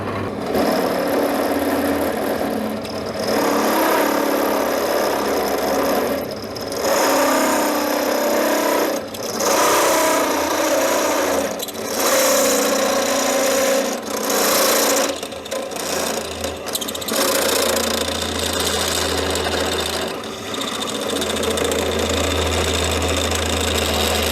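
A GTM DB30 drill press with a variator runs idle, its motor giving a close, steady mechanical whir that shifts in pitch and level several times, with no talking.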